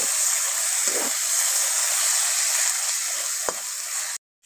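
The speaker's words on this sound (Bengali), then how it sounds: "এবার এর মধ্যে দিয়ে দিচ্ছি পেঁয়াজ কুচি। পেঁয়াজটাকে খুব বেশি ভাজবো না," Chopped onions frying in a hot pan for chicken bhuna masala, a loud, continuous hiss with a couple of soft stirs and a sharp tap near the end before it cuts off.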